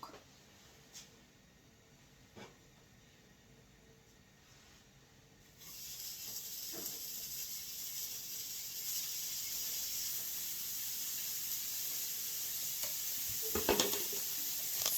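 Bacon laid into a hot pan begins to sizzle, a faint quiet stretch giving way to a steady, louder broadband hiss that holds continuously, with a few small pops and clicks near the end.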